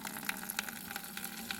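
A child draws water from a traditional mountain water heater in a rural hill home. Water runs and gushes faintly and steadily, with a few light clinks throughout.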